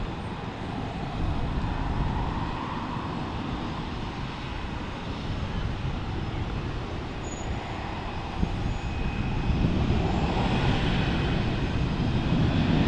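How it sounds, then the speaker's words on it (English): A United Airlines jet departs Fort Lauderdale for Chicago O'Hare, its engines a steady broadband roar at a distance that holds even and builds a little toward the end, with no talk. "So this United departure headed off to Chicago O'Hare, home base of United Airlines."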